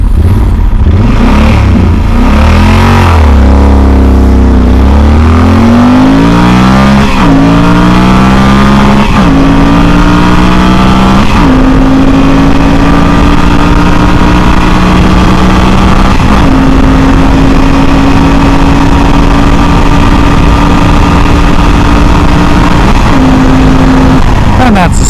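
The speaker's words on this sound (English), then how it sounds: "we're going to do a little speed run here, so you can decide if the Yamaha Super Tenere would have enough power and speed for you" A 2019 Yamaha Super Tenere ES motorcycle in sport mode accelerates hard through a series of gears, its engine note climbing then dropping at each shift in a loud, close, continuous run.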